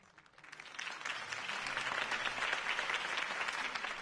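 Applause from a crowd after a campaign speech for a city election, a steady wash of clapping that swells in the first second and holds at moderate distance.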